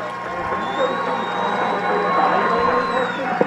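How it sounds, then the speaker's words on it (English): Raucous crowd at a 12U Cal Ripken World Series youth baseball game in Hammond, Indiana, a broad steady roar of cheering with a faint horn-like drone, under a commentator's talk. "Raucous crowd tonight."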